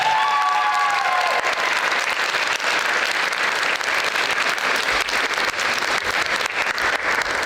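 A theater audience applauds a student cast of a Pride & Prejudice stage production. The clapping is loud, dense and sustained throughout, with no speech over it.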